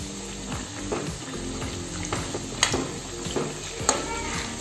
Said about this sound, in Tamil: இந்தளவுக்கு ஃப்ரை பண்ணால் போதுங்க.